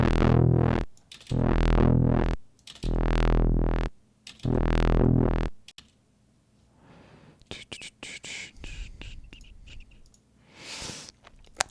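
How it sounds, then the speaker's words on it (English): Synth sound run through a distortion effect in music production, heard as four loud, buzzy sustained notes in a row, followed by quieter clicks and faint breathy noise. "And just put distortion first."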